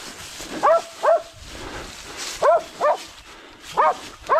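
Hunting dogs bark in short paired bursts during a wild boar hunt, with pauses between each pair, fairly close and loud.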